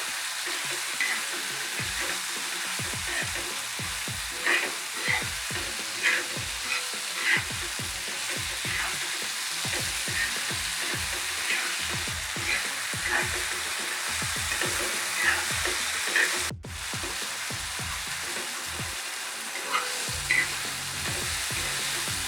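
Bombil (Bombay duck) bhurji cooks in a pan, salted, with a long steady sizzle and frequent rhythmic spatula scrapes and taps, close by, a brief dropout near the end, no talk.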